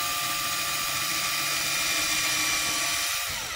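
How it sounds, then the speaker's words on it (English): A thin, high-pitched whine of a skinny drill bit boring steadily into a wooden dowel, continuous and close, winding down at the end. "I'm just taking this real skinny drill bit, and I'm just drilling a little hole towards the top"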